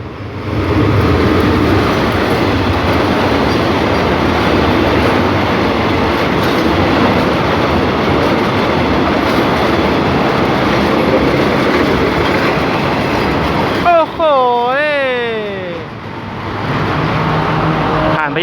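A diesel train passes the North Park railroad crossing on a quiet morning, a loud, close, continuous rumble with clattering wheels; near the end a wavering horn-like tone rises and falls before the roar resumes.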